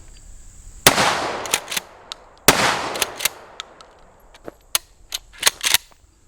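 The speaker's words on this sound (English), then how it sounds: "2 shots unsuppressed, and you'll see the difference." Two sharp, loud unsuppressed shotgun shots firing 2.5-inch rifled slugs ring out about two seconds apart, each followed by a long echo, then scattered fainter cracks and clicks.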